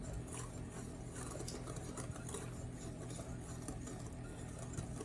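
Sugar being stirred into a pecan bar crust mixture in a bowl: a steady, close gritty scraping and rustling that runs continuously without pause, with no voices.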